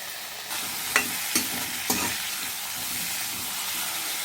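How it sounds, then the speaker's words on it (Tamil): Steady sizzling of onions and bitter gourd sautéing in a pan, with a few sharp stirring clinks near the start and a continuous hiss throughout. "இது கூடவே நம்ம பாவக்காயும் சேர்த்து நல்லா வதக்கி விட்டுக்கலாம்."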